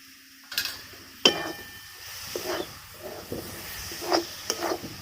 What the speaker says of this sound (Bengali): এবার আমি সব কিছু একটু নাড়াচাড়া করে মিশিয়ে নিচ্ছি।